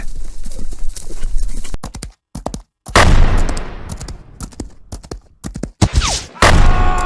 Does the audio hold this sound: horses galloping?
yes